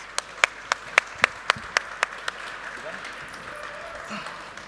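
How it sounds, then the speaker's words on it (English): An audience applauds after a panel at a tech conference, with a handful of sharp, loud claps close by over a softer wash of distant clapping that tapers off. "Round of applause for these guys."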